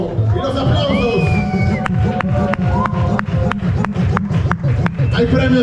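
A large crowd at a breakdance battle final roars and cheers continuously, with loud whoops and sharp claps cutting through the dense noise.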